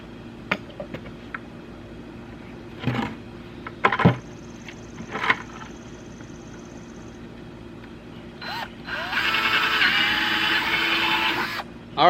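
A power drill bores a hole through a plastic bucket, with brief bursts of clatter and handling before a sustained, loud whirring grind near the end.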